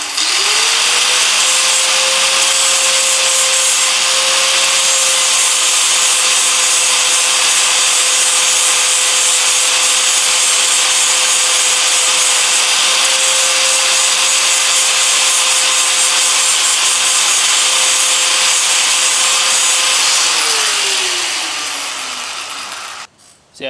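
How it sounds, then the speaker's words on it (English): Bondo body filler being sanded on a Lexus LS400 body panel, a steady, loud abrasive rasp that runs continuously for over twenty seconds with a sustained tonal whine, then tapers off at the end. "it's just gonna be a lot of sanding"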